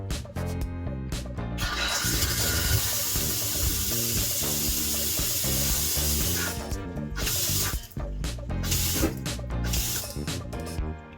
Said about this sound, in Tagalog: Teka, medyo malakas yung pressure ng tubig.